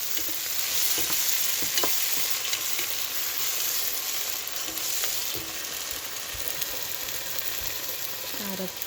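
Frozen tomato sizzles and fries in a pan of egg masala curry, a loud constant hiss with occasional stirring scrapes and small pops.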